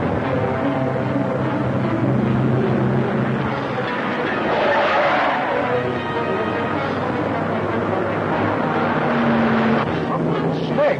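In a radio drama, a vehicle engine drones loudly and continuously while driving, a rumbling road noise that never lets up, with voices speaking over it.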